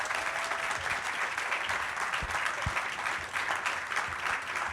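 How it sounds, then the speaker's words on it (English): An audience applauds a panel of open-source software developers, a steady, dense wash of clapping filling the room for several seconds with no talk over it. "Please give a round of applause to these awesome developers"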